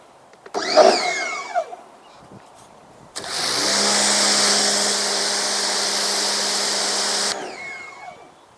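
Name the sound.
pressure washer running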